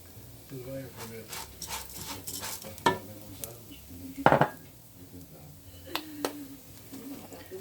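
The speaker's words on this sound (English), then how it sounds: "Already have got lots of gold ones, so I'm adding the chorizo" Quartered chorizo tipped into a pan of golden-fried rice, with soft sizzling, scraping stirs and a few sharp utensil knocks against the pan, close up under a speaking voice.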